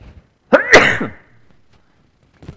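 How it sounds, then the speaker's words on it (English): A single loud, close sneeze during a lecture at a Buddhist monastery in Berkeley, with a sharp intake and burst, followed by quiet and a faint noise near the end. "And I'm going to sneeze here, excuse me."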